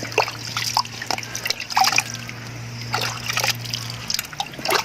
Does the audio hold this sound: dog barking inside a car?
no